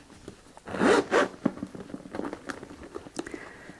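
A handbag's zip is pulled along teeth freshly rubbed with pencil graphite, giving two quick, close rasping zips followed by faint scraping and handling.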